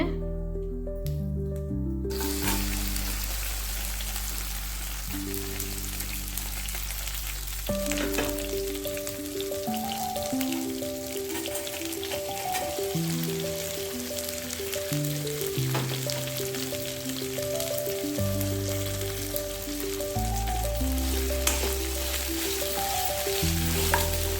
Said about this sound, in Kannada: ಹೀಗೆ ಫ್ರೈ ಮಾಡ್ತಾ ಹೋಗ್ಬೇಕು.